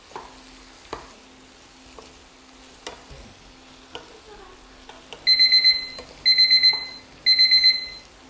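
A kitchen timer alarm rings in three bright electronic beeping bursts near the end, loud and close, following soft stir-frying scrapes and light clatter from a pan of fish cakes.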